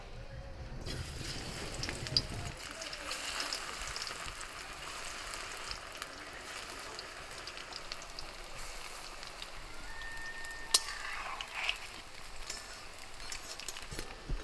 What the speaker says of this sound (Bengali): এবার বড়াগুলো পাতলা পাতলা করে ভেজে নেবো